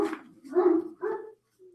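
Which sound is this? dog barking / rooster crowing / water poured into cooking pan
dog barking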